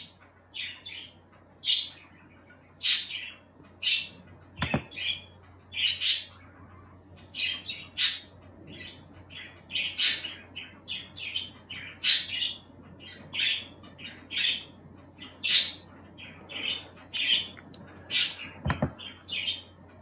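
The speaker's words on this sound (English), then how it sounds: "my parakeet's so loud" A pet parakeet squawks and chirps loudly and repeatedly indoors, with sharp bursts spread across the whole stretch, near and prominent over a low steady hum and a couple of faint thumps.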